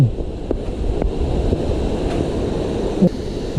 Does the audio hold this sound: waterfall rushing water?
yes